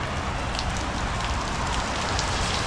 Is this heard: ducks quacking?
no